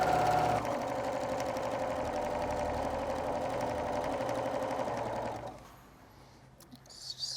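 A sewing machine hums steadily for about five seconds, stitching across the top edge of a fabric face mask, then slows and stops, with faint handling sounds afterward.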